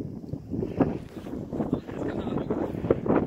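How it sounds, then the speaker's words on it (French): Gusting wind buffets the microphone outdoors on a hammock trip along the Rivière du Poste, a steady broadband rush that swells and dips in irregular surges throughout. "Le vent se lève"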